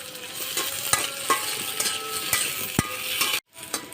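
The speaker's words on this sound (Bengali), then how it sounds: "এখন পেঁয়াজ মরিচ আর রসুনগুলো ভালোভাবে ভেজে নেব লাল লাল করে" Onions, green chilies and garlic frying in oil for a dried-fish bhorta, a steady close sizzle broken by sharp scrapes and clicks of a stirring spoon, briefly cut to silence near the end.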